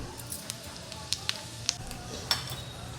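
Cumin seeds sizzling in hot oil in a home kitchen, a faint steady fry with a few sharp crackles and pops, with no talk.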